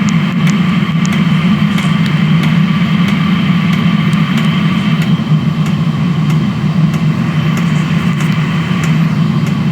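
A diesel heater burner runs steadily on diesel fuel, a constant low droning roar with a mid-range whine and occasional faint ticks, unchanging throughout.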